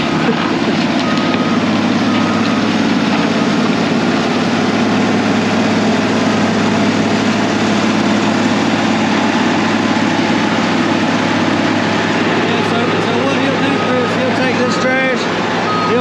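A landfill compactor's heavy diesel engine runs steadily in low gear, a loud, continuous low rumble throughout with a faint reversing beep near the end.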